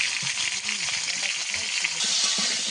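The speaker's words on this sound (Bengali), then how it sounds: "আমটাকে তেলের মধ্যে একটু ভেজে নেব" Pieces of raw mango fry in hot oil, a close, even sizzle with small crackles and a faint voice in the background.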